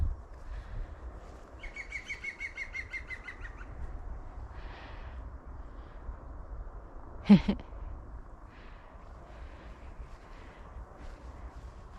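Songbirds chirp and trill in the woods, a bright burst of song early on and a sharper call partway through, all fairly faint over a steady low rumble of wind and ambient noise.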